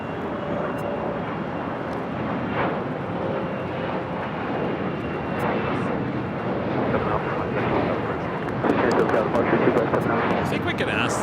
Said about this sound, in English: This is Asiana Airlines Flight 201 taking off to Seoul on the A380.